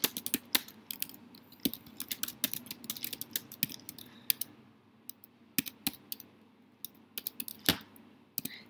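Typing on a computer keyboard during a live stream, close irregular bursts of sharp key clicks with short pauses between runs, no talking.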